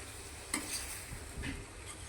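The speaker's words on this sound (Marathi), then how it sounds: "आणि आता परत ढवळून घ्यायचं जरा." Prawn masala is stirred in a pan, a quiet low sizzle with a couple of soft scrapes and a faint clink of the spoon against metal, brief and without talk.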